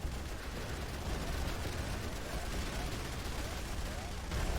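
Dense, continuous battle din of mortar and gunfire from the Rise of the Reds game, a steady loud barrage of overlapping blasts with no distinct pauses, mixed with game noise throughout.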